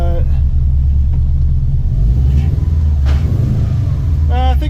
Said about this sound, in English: It does kind of sound like I have a bit of a misfire